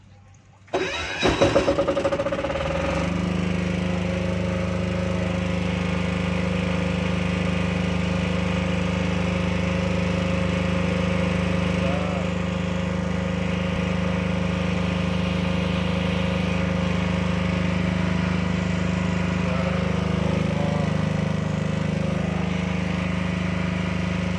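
A Krisbow KRPD40 diesel generator cranks briefly, catches and starts, then settles into a steady, loud, droning run with a constant hum that continues unchanged for over twenty seconds.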